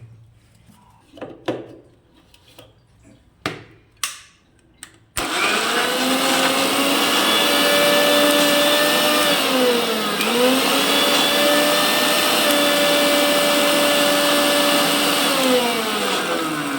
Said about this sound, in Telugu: మూత పెట్టుకొని వాటర్ పోయకుండానే ఒకసారి బ్లెండ్ చేసుకోవాలి.